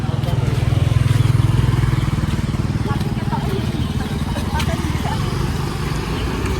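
A motorcycle engine runs close by with a loud, steady low putter that eases slightly over several seconds, as people talk over it.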